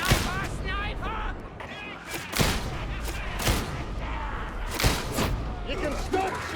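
Gunfire in a Warhammer video game, dense and continuous, with repeated booming shots and thuds over a busy battle din, while voices talk and shout over it.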